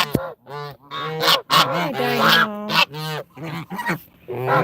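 A pet goose honks repeatedly and loudly up close, its harsh nasal calls coming in quick bursts, with a person's brief voice mixed in.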